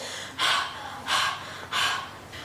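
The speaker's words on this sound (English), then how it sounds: "Aren't you panting, children?" Three heavy, breathy pants from a person out of breath after hopping up and down, spaced evenly and close, with no talking.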